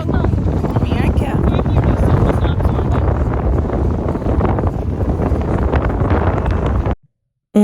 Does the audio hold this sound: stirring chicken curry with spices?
no